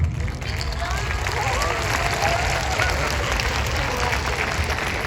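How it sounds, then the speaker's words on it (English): A big round of applause from a crowd after a spectacular school performance, steady dense clapping that stays loud and continuous throughout, with some crowd noise mixed in. "I would want everybody to give a big round of applause."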